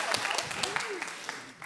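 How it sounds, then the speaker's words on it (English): Brief burst of audience applause at a systems thinking and design conference morning session, scattered clapping with a voice speaking over it, short and moderately loud. "She needs applause."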